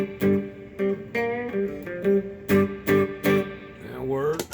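Electric guitar played through a Peavey Ultra 112 amp's clean channel with reverb: a run of plucked notes and chords in a rhythmic pattern, each ringing with a short reverb tail, fairly loud and close.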